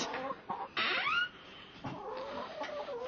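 Hens in a backyard chicken coop cluck and squawk near the microphone, with one rising, drawn-out call standing out among quieter, scattered clucks over about three seconds.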